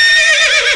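Horse neighing close and loud, a single bright whinny with a wavering, falling pitch that trails off at the end.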